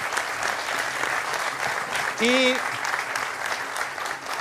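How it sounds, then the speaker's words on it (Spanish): A studio audience at a Canarian folk music show gives steady applause for singer Iván, with a brief voice calling out over the clapping partway through. "vamos a dar un aplauso a Iván"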